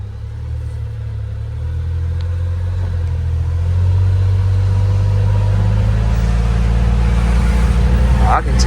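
A 2025 CFMOTO U10 PRO UTV engaging reverse and pulling away, its engine rising from an idle into a low, steady rumble that builds louder, with speech heard briefly.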